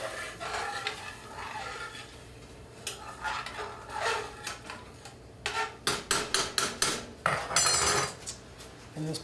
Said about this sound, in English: You stir it, you're going to scrape all the bits on the bottom of the pan up